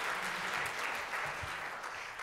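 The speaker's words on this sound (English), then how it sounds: "you can clap again" Audience applause at a jazz concert by a university jazz orchestra, a steady dense wash of clapping held at an even level for the whole couple of seconds with no voices over it.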